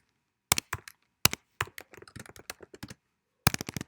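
Keystrokes on a computer keyboard in irregular bursts of sharp clicks, with a few short pauses between runs and quiet gaps in between.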